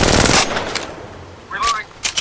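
Automatic weapons fire in Apex Legends Mobile, a loud close burst of rapid shots at the start, then a quieter lull and two shorter bursts near the end, with game voice lines in between.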